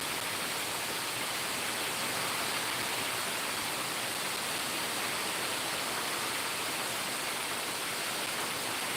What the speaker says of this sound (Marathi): इतका जोरात पाऊस पडलाय